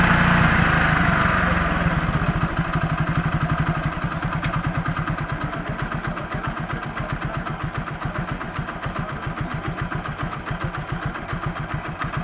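A motorcycle engine idles during RPM and mileage tuning, its rapid, even firing pulses close and loud, settling slightly quieter and more distinct as the speed is eased down.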